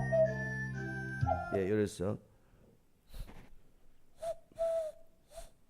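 A man imitates a cuckoo call with his voice, several short whistled hoots in a row, close and fairly loud, with bits of speech and other sounds between them.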